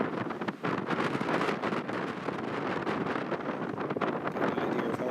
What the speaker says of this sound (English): Get an idea of how the wind is.